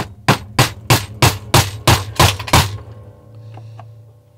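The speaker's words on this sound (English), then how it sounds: "Hammer." A hammer striking a piece of wood set on a 25-year-old Fender Stratocaster body: eight sharp, evenly spaced knocks in quick succession, loud and close, followed by a faint low ring and quiet background.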